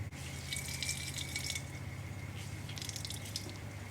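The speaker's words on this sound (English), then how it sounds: "So we're going to get that drained and we're going to get that dry." Water draining and dripping from salted zucchini strained through a clean tea towel, a faint steady trickle with light splashy drips against a low background hum.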